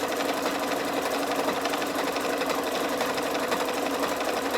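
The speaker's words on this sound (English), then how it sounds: "Just allowing that project to sew along that top folded pocket." A sewing machine on straight stitch top-stitches along the folded top edge of a fat-quarter fabric pocket, running steadily and close up with a fast, even whirring hum that does not pause.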